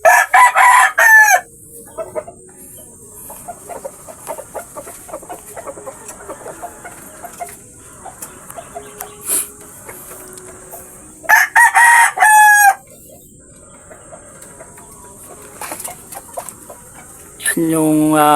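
Chickens and roosters in a backyard: loud, close crowing bursts at the start, middle and end, with scattered clucks and quieter farmyard sounds in between.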